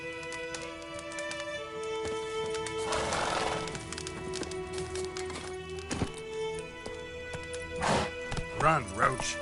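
A horse gallops and whinnies in The Witcher video game, with steady hoofbeats under game dialogue and music, and loud neighs rising near the end.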